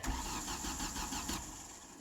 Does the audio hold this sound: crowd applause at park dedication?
no